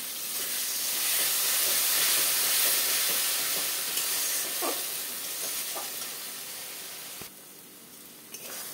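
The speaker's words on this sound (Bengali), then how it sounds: "আমার মশলাটা কষানো হয়ে গেছে, এবার এই 10খানা কাঁচা লঙ্কা আমি বেটে রেখেছি," Ground green chilli paste from ten chillies hits fried masala for a mutton and potato curry, giving a continuous close hiss and sizzle with a few stirring scrapes that gradually softens.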